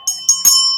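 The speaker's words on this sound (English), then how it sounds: "And these are meditation bells." Small meditation bells are struck three times in quick succession, each strike a bright metallic ping with a sustained ringing tone, loud and close with no voices.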